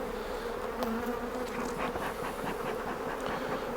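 Honeybees swarm around an open hive box during a frame inspection, a dense steady buzz that hangs close and even throughout, with no talking.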